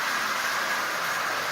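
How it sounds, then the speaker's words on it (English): A 70-year-old original Marx toy train engine runs on its track, giving off a steady, even mechanical whir and rattle with no pauses. "that engine is running extremely well"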